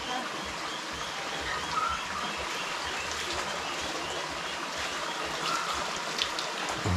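Mountain spring water in Kojur village in northern Iran flows in a soft, steady trickling rush, fairly quiet and continuous throughout.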